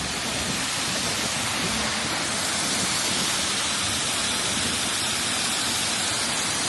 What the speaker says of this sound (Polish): Tak, jakiś potoczek tutaj płynie.